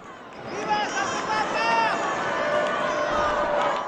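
A large crowd gathered on St. Peter's Square greets the Pope on Easter Sunday, a steady wash of distant cheering and babbling voices with scattered shouts and whistles rising throughout.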